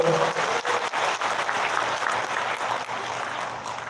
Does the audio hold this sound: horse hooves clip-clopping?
no